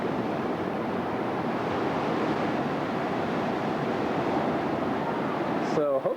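Steady roar of ocean surf breaking on a beach, loud and continuous with wind noise mixed in, a brief higher sound near the end.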